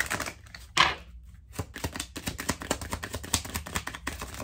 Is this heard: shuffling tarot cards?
yes